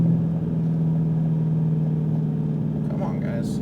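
A Mustang Shelby GT500 drives at low speed on a course, its engine a steady deep droning hum throughout, with a voice briefly heard near the end.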